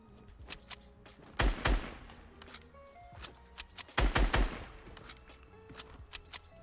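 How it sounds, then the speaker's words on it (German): Gunshots from shooting in the video game Fortnite, with two loud bursts of rapid fire and scattered single shots in between, heard against quiet game ambience. "Ich schieß mal ein bisschen rum, damit vielleicht jemand kommt."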